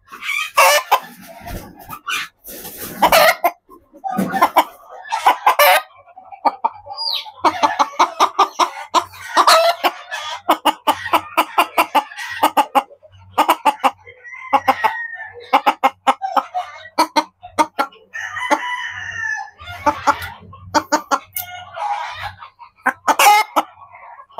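Chickens cluck steadily in a busy, close chorus, with a rooster's crow rising now and then among the rapid calls; no one speaks.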